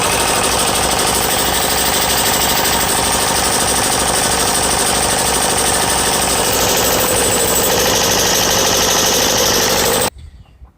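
An air compressor with a newly fitted motor pumping air, a loud, close, rapid pulsing chug that runs steadily for about ten seconds and then abruptly shuts off.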